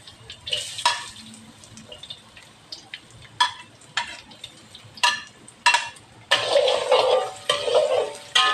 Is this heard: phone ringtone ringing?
no